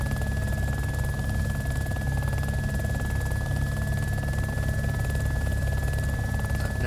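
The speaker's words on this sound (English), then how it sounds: "It's the biplane." A biplane engine flying overhead in the video game DayZ, a continuous loud droning buzz with a steady pulsing rotor-like texture that holds at constant level throughout.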